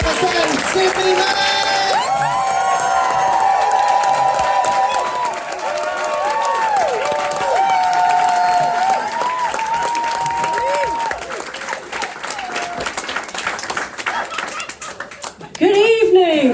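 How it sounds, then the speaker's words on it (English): A comedy club audience at a new comedy award show in Brighton breaks into loud, dense applause and cheering for an arriving comedian, steady for about fifteen seconds with music-like tones underneath, then swelling again at the end. "Please start the applause."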